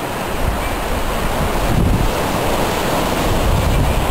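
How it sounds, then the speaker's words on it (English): Ocean surf washing onto a Normandy beach, a steady loud roar of waves with heavy wind buffeting the microphone throughout, no voices heard. "We are on the beaches of Normandy!"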